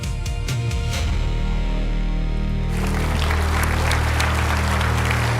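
Applause from an audience at a flight simulation expo as a speaker walks on stage, a steady loud wash of clapping that thickens and grows denser partway through, alongside background music.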